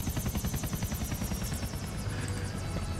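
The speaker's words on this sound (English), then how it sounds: "You just landed a helicopter on top of me." A helicopter in GTA IV comes down close overhead, its rotor beating in a fast, steady chop with a turbine whine, loud and near throughout, with no speech.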